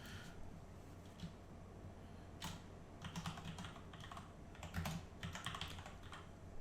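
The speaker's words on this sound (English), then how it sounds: "Trying to type around without hitting my microphone." Quiet typing on a computer keyboard during a Hearts of Iron 4 strategy game session, with irregular bursts of soft key clicks that cluster into quick runs and then pause.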